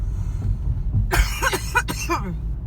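Several harsh coughs come in a quick burst, close and loud, over a low rumbling background.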